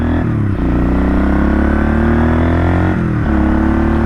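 A 1978 Kawasaki KL250 motorcycle engine runs steadily on a newly installed, unmodified carburetor, a loud, close, buzzing single-cylinder drone with brief dips in pitch near the start and around three seconds.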